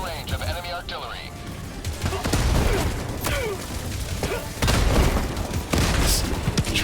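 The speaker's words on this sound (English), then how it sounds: "Warning, you are in range of enemy artillery." Heavy artillery shells pound around the player in Helldivers 2 during a solo Automaton helldive, a run of loud booming blasts and crackling debris overlapping with gunfire across several seconds.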